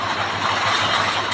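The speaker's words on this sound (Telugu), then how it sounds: "ఇదిగోండి మన ట్రైన్ దూసుకుపోతుంది." A video game train speeds along with a loud, steady rumbling roar and a faint rhythmic rail clatter, heard alone without talk.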